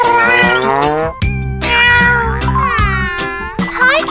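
A cat meows repeatedly in long, drawn-out, whiny cries, close and loud, with short pauses between calls.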